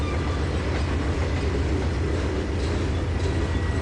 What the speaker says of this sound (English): Alrighty, we got ourselves a coal car here.